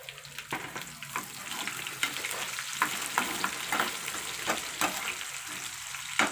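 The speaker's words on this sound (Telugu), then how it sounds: "ఉల్లిపాయలు బాగా వేగాలండి" Onions fry in a pan with curry leaves, a steady, moderately quiet sizzle punctuated by repeated scraping strokes of a spatula at an irregular rhythm; nobody speaks.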